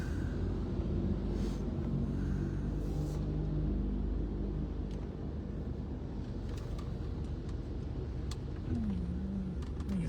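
Road traffic rumbling steadily with car engines droning and occasional passing vehicles, a constant low roar with wind buffeting the microphone and no speech.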